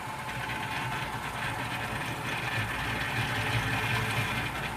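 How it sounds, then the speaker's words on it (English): A roller grinding machine runs steadily while milling aloe foam cleanser cream, giving a continuous mechanical hum with a low rumbling throb, close and even in level throughout. "you're going to turn on the machine and it's going to start rolling like that"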